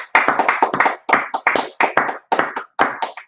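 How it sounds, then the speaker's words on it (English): Audience clapping at a talk about the origins of Black History Month, a burst of sharp, dense handclaps in uneven clusters, loud and close, with no voices. "Clap it up for that point"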